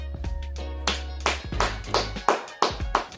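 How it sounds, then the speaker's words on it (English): A few people at home in a kitchen break into a slow clap, sharp single claps at a steady, deliberate pace that follow a brief stretch of murmur and hum. "You can't just start a slow clap at any old time."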